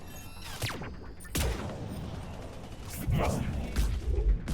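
Sniper fire in the game Mass Effect 3 cracks out in a few sharp shots with whooshing tails and thuds, loud and close, mixed with other combat noise and a voice speaking.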